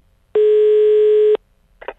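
A single steady telephone line tone sounds loud and close for about a second while a prank call is being placed, then cuts off, followed by a short burst of faint sound.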